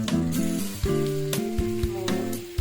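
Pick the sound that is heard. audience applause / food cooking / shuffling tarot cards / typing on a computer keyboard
food cooking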